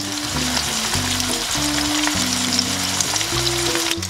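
Gurnard fish frying in a covered pan with avocado oil, basil, garlic and ginger, a loud steady sizzle with crackling spits and a low musical tonal hum running beneath, close up and uninterrupted.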